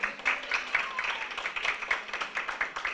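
Applause at a school board workshop meeting, a modest group clapping in quick uneven bursts, moderately loud and steady throughout without speech.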